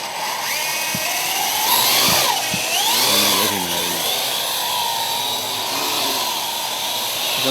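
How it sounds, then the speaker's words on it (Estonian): A small drone flies during a timed challenge run, its whining motors rising and falling in pitch as it maneuvers, fairly close and steady with a few faint knocks, no voices. "Urmas teeb siin natuke närviliseks nüüd oma drooni"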